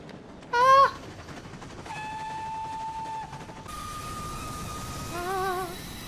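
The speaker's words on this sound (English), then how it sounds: "The train gets round the corner." A passing train in a film, with a continuous rumbling rail noise and sustained horn-like whistle tones that rise and hold, sounding moderately loud and steady throughout.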